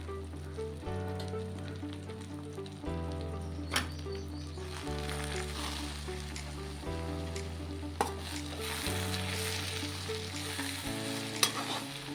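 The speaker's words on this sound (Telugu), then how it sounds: "ఏరుశనగ నూనె వేసుకుని వేపుకోవాలన్నమాట" Gongura leaves frying in peanut oil in a pan, a steady soft sizzle with occasional stirring scrapes and clicks over a low humming background, fairly quiet and without talk.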